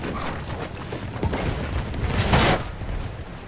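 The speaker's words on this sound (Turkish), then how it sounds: "Evet bir tane tank patladı yanımızda." Battlefield 1 game combat with a nearby tank explosion, a heavy boom swelling out of ongoing gunfire and rumbling battle noise, loud and close.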